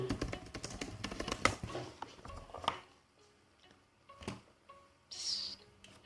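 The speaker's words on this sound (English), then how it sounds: "I'm sorry, I'm typing on the Discord." Quick clattering keystrokes on a computer keyboard run for a few seconds, close and fairly loud, then thin out into a few isolated taps and faint background sounds.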